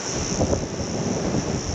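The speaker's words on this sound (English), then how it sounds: "Bloody windy as heck." Strong wind buffets the microphone in a constant, loud roar on Fraser Island, with a steady hiss running throughout and no voices.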